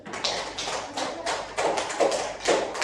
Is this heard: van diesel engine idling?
no